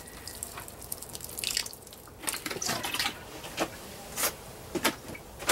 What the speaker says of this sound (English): I'm going to give them a very light drink of water